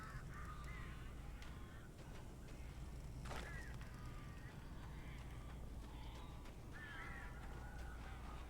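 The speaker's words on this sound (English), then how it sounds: "These birds are weird." Crows cawing inside a building in the Alan Wake video game, several harsh caws scattered across a continuous low rumbling ambience, fairly faint and without speech.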